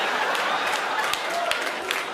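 Audience at a stand-up comedy show clapping steadily, a dense wash of applause from a crowd filling the room with no clear break.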